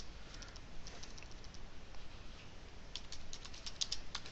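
Typing on a computer keyboard, a quiet patter of rapid key clicks in short bursts, picking up in a denser flurry toward the end.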